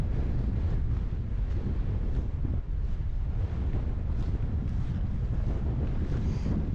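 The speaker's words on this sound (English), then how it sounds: "Because it's actually quite windy." Wind buffets the microphone on a hike in Norway in a constant low rumble and roar, loud and close, with no speech, only the steady blustery noise.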